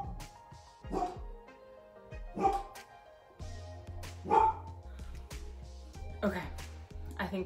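A dog sitting in her chair barks in several sharp, close bursts spaced a second or two apart, with a person talking in between.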